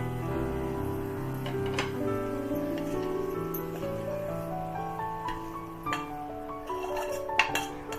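Curd jeera rice is spooned out of a pot onto a plate, with steady scraping and a few sharp clinks of a spoon against metal and ceramic dishes. The clinks come close and moderately loud over low background music or hum, and nobody speaks.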